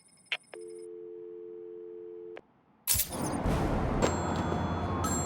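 Telephone in Batman Arkham City: a short beep, then a sustained electronic phone tone for about two seconds that cuts off, followed by loud, noisy game ambience with sharp clicks.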